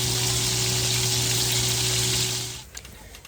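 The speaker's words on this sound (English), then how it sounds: "Making the roux. I'm gonna add some onions to it." Onions sizzle loudly in a roux for gravy, part of a big-family Sunday burger dinner. The close, steady frying hiss stays constant, then cuts away sharply near the end.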